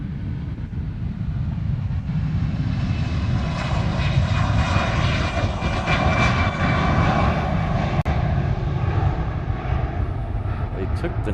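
A Hawaiian Airlines airliner passes by at Honolulu airport, with a broad, steady jet engine roar that swells gently and holds loud throughout.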